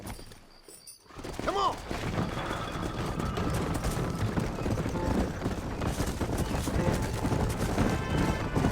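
Horse galloping in the video game Red Dead Redemption, a dense busy run of hoofbeats under loud game score and background effects, with a brief voice call near the start.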